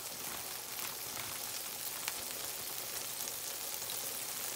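Birria tacos frying with mozzarella cheese in a pan, a steady, quiet sizzle with soft crackles throughout and no voices.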